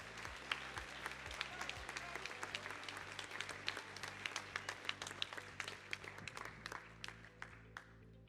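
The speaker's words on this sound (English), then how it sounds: "let's give him a round of applause." An audience at a high school decision day event claps for a student, a dense sustained applause of many hands with individual sharp claps standing out throughout, moderately close and without speech over it.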